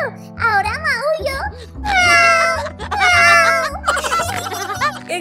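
A high, childlike voice imitates a cat, drawing out wavering meows over a low, steady musical backing.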